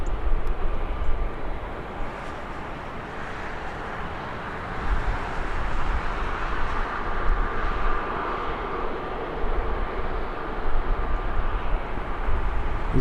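A Jet2 airliner departing Birmingham Airport on a morning flight to Alicante, heard as a steady, loud broadband engine roar sustained throughout without talk.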